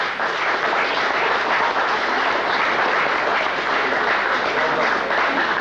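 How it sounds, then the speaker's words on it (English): A luncheon audience applauds, a dense, steady wash of clapping from many hands that holds evenly throughout. "Big round of applause for our guest."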